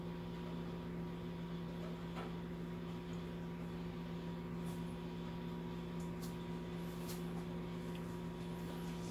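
A microwave oven runs, cooking a small kabocha squash: a low, steady electrical hum drones without a break, with a few faint clicks and rattles on top.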